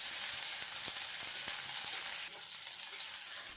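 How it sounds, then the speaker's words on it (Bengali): Ginger garlic paste frying with onions in a pan, a continuous close sizzle with a few soft stirring taps, fairly quiet and steady, no voices. "দিয়ে আমি কয়েক সেকেন্ড আদা রসুন বাটাটা পেঁয়াজের সঙ্গে কষিয়ে নেব, যাতে কাঁচা গন্ধটা না থাকে।"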